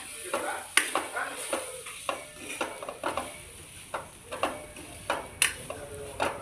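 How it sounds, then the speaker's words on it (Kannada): Grated coconut frying in a pan with chilli powder and salt, a spoon scraping and stirring in irregular close taps over a faint sizzle. "ತುರಿದಿರೋ ಕಾಯಿ ಹಾಕಿ ಫ್ರೈ ಮಾಡ್ಕೊಳ್ಳಿ"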